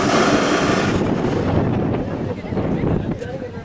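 Ocean waves push water in with a rough, broadband rush, buffeted by wind on the microphone. The sound is loud and close, with the surge easing after the first second.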